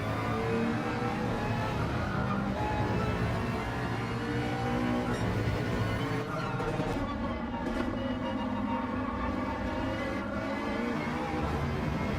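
Race car engines in Gran Turismo 7 at Interlagos, a steady loud drone of several cars revving and shifting together throughout, as in a pack during a daily online race.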